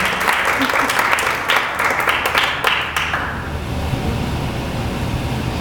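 A church congregation applauds at a worship service, dense clapping filling the first three seconds before fading into a low murmur of room noise.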